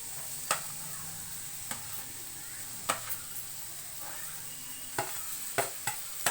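Cooked rice being stirred into a cumin tempering in a pan for jeera rice, a faint background sizzle broken by several sharp scrapes and clinks of the spoon against the pan.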